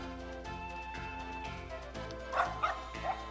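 A dog barks in the Western video game Boot Hill Bounties, a few quick yips heard faintly over steady background music and game sound.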